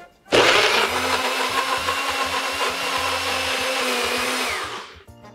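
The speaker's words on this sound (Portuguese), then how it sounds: "Então a gente liquidifica óleo de coco," A blender whirs steadily through coconut oil, sweet potato and date syrup, starting abruptly and running at a loud, even motor whine for about five seconds before cutting off.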